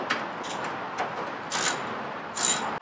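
Ratchet wrench loosening 10mm bolts on a car's air filter housing, a few sharp clicks followed by two louder bursts of rapid ratcheting, close and alone.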